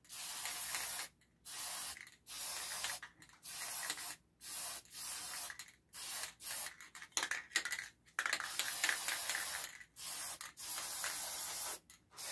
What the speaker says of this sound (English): So let me just spray this quickly.